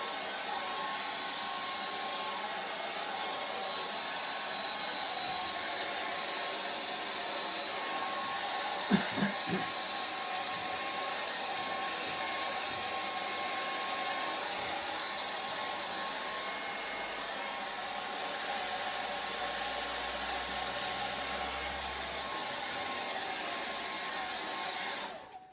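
A hair dryer blows steadily at close range onto acrylic paint on a canvas, a loud, unbroken rushing whoosh lasting over twenty seconds with a faint knock partway through, then cutting off at the end.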